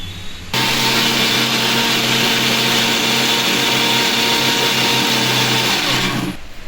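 A kitchen grinder whirs at full speed grinding cooking ingredients, a loud steady motor whine with a strong hum that starts abruptly, runs unbroken for about six seconds and cuts off.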